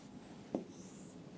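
Writing a number on a board gives a quick tap and a short scratchy stroke close up, then quiet room tone and no speech.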